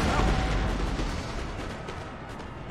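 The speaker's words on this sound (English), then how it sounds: "now they're all in range, let's go for a barrage" Artillery barrage from cannons in Napoleon: Total War, a dense rumbling roll of booming shots layered over one another, loud and continuous with some voices beneath.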